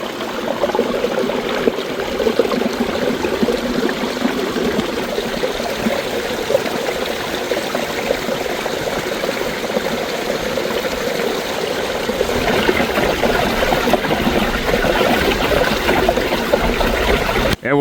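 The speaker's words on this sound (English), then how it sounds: "And you can really hear it percolating underneath all the ice sheets." Water percolates and gurgles beneath ice sheets at a partly frozen waterfall, a continuous close trickling and burbling flow that holds steady and swells slightly louder near the end, with no talk.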